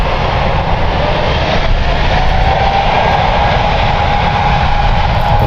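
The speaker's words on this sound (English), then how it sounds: "Got an A220 departing." An Airbus A220 jet departing San Francisco International Airport gives a loud, steady engine roar with a sustained whine, continuous and close throughout.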